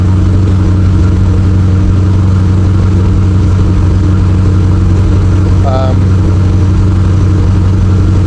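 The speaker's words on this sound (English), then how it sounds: "I let it warm up to about half just to make sure everything gets better because it's a custom built engine" A custom-built car engine idles steadily while warming up, a loud, continuous low rumble close by with a brief higher chirp partway through.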